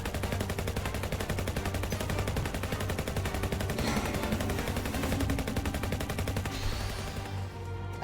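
Sustained rapid gunfire in the Final Fantasy VII Ever Crisis game, a dense unbroken rattle of shots that holds steady and loud almost to the end before thinning slightly.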